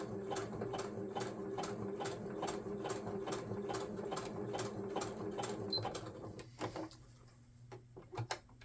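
Sewing machine stitching fabric snippets into a collage roll: a steady, rapid mechanical chatter with an even needle rhythm, close and alone, winding down near the end into a few separate clicks.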